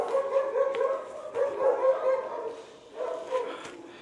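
Several dogs bark in repeated bursts from nearby, with yips mixed in, in a residential setting with neighbors close by; the barking comes in clusters with short pauses between them.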